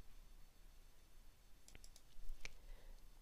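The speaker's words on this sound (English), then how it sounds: "And next I click on References" Mouse clicks while working in Word 2016, a few soft, close clicks in quick succession followed by one sharper click over quiet room noise.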